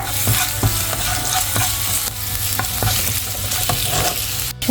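Three onions sautéing in a pan, a constant close sizzle punctuated by repeated rhythmic spoon strokes scraping the pan, with no one talking.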